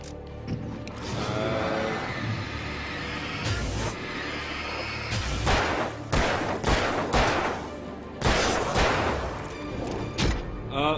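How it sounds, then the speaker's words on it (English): Gunfire in the video game Alan Wake: a cluster of loud, sharp shots in quick succession, then another burst a few seconds later, over a low rumbling game soundtrack. "Desperation shot right to his face."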